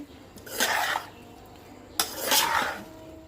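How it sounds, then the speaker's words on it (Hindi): A utensil stirs chicken pulao rice with green chilli in a pot, making two short scraping, rustling passes about a second apart, quiet and close. "अब हम इसे हिलाएंगे।"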